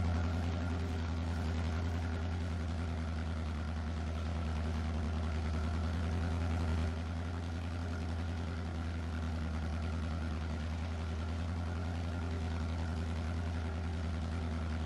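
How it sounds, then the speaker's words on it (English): Tractor engine in Farming Simulator 22 holding a steady, deep rumble with a low droning hum, loud and continuous throughout, alone without talk. "I'd say this tractor seems like have a nice sound to it, if you ask me. Nice roady rumble."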